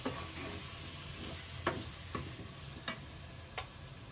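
Chopped tomatoes and green chillies hiss and sizzle in a hot frying pan, steady frying broken by a few sharp spatula clinks and stirring taps.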